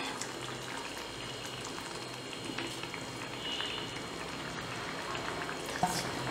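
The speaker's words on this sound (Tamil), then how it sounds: "குழம்பு சுண்டுது, இன்னும் கொஞ்சம் சுண்டுமாங்கக்கா, இன்னும் கொஞ்சம் சுண்டணும்." Ajwain (omam) curry simmering and reducing in a pot, a soft continuous bubbling and crackle that is steady and fairly close, with a small clink near the end.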